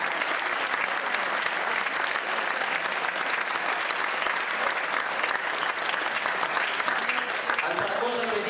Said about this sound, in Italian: E volevo un applauso per tutti loro.